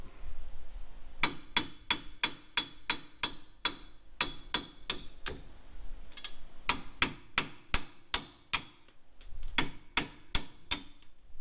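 Wheel studs being changed on a Suzuki Samurai with a hammer, heard as sharp metallic strikes. They fall in evenly spaced runs of about seven to nine blows, with brief pauses between runs.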